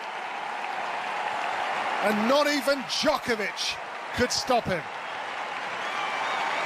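Applause from the crowd at the French Open after Nadal's win over Djokovic, a steady broadband wash of clapping running throughout, with a commentator talking over the middle of it.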